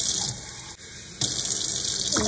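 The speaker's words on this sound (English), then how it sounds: "So I took 8 of these cups with water to fill this pitcher up to the line here." Water pouring from a cup into a pitcher, a steady broadband splash that briefly drops and resumes, with a fresh pour starting near the end; no talking.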